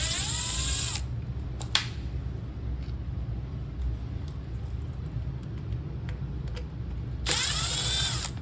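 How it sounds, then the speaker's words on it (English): A power drill or driver backs screws out of the drain pump on an LG front load washer: two short whirring bursts at the start and end, close and loud, with faint clicks between over a steady low hum. "Now we're taking the 2 screws out."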